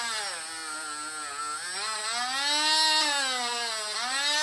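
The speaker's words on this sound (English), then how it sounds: "Don't max out the speed of the Dremel either." Dremel rotary tool with a polishing pad working an Avid BB7 bicycle brake rotor gives a sustained high whine whose pitch rises and dips as the speed and pressure change, close and steady for several seconds.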